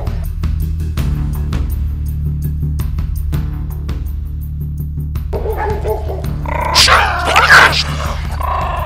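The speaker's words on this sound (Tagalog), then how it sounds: "Pag nag-away yung dalawang aso" A toy poodle and a shih tzu scuffle, with growls and a burst of sharp, high yips and barks near the end, close by over a steady low household hum and scattered clicks.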